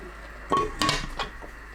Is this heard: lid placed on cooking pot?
yes